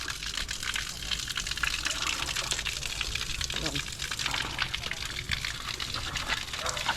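Water gushing strongly from a pipe under pressure, a loud, steady rushing hiss that continues without a break from start to finish.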